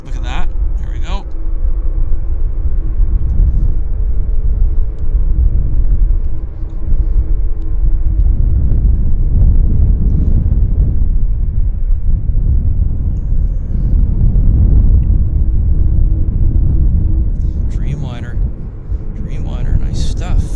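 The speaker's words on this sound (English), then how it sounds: "Dreamliner, nice stuff." A Boeing 787 Dreamliner jet rumbles at an airport, a heavy, sustained low roar filling the scene throughout, with a voice talking briefly at the start and end.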